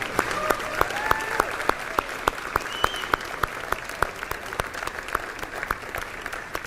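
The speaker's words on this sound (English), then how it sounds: "Let's give them a round of applause." An audience claps for the Lunar Outpost team at a lunar landing event, producing dense, steady applause with sharp individual claps standing out, loud and close, while a voice talks faintly underneath.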